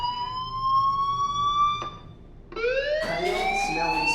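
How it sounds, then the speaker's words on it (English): A school fire alarm rings in the game Life is Strange, a loud electronic tone that holds steady, breaks off briefly, then returns rising and stronger. "Hey, do you hear that fire alarm? That means you should be outside."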